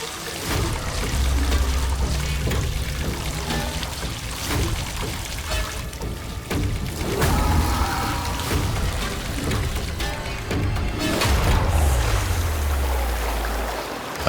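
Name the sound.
water pouring into a car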